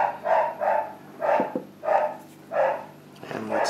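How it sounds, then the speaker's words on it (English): A dog barks in a run of about six sharp, fairly loud barks at uneven spacing, heard indoors during a billiard table restoration. No one speaks. "Sorry that the dog's barking there."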